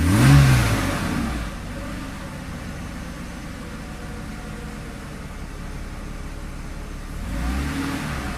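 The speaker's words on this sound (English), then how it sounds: "I give it a little bit of gas." A Mercedes E320 engine blipped with the throttle after throttle body work, a short rev rising then easing into a steady idle hum, with a second rise near the end, close and without talk.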